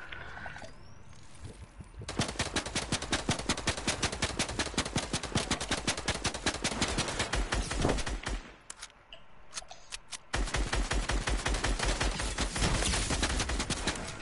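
Rapid automatic gunfire in a video game shootout: long, steady bursts of evenly spaced shots, loud and close, broken by one short lull before the firing resumes, no talking.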